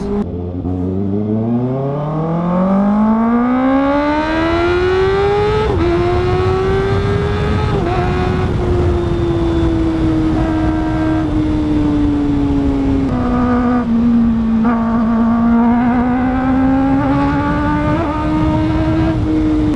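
A 2024 or 2022 Kawasaki ZX6R motorcycle flies past with a loud, high-revving inline-four scream that rises as it approaches, shifts gears with brief dips, and holds a sustained roar close by.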